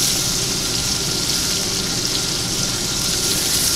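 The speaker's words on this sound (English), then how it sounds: "Turn our steak over, gonna throw some butter right on the top" A steak sizzles steadily in a hot pan after being turned with a knob of butter on top, a loud, continuous frying hiss with no talk.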